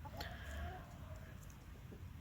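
A pet rooster that roosts in a tree rather than the chicken house gives soft, close clucking calls over a low outdoor rumble, with a brief sharper call near the start.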